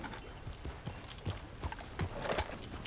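A horse's hooves clip-clop in a steady walking rhythm in the video game Red Dead Redemption 2, close and moderately loud over a dense background of game ambience.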